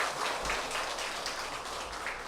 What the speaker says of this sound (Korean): 우리 잠깐 자리에서 일어나실 때 박수 한번 드릴까요?